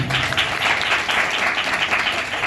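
Congregation clapping at a Sunday church service, a continuous dense patter of many hands at steady volume for the whole stretch.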